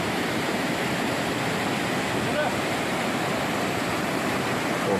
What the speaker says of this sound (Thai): น้ำไหลแรงนะครับ